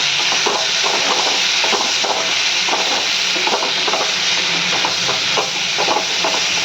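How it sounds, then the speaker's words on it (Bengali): A spoon stirs food with turmeric powder and salt in a hot pan, giving a steady close sizzle with repeated scraping strokes through it. "একটু ভালো করে নেড়ে ফেলে"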